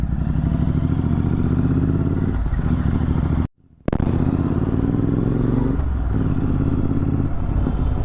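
A Royal Enfield GT 650 twin-cylinder motorcycle idling and rumbling close by with a steady throbbing exhaust note, briefly cut to silence midway, then resuming with slight revs.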